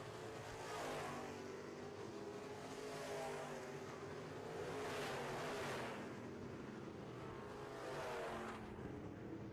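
Midwest Modified race cars roar around a track in a heat race, a steady broadband engine drone that swells in repeated waves as cars pass, with no talk over it.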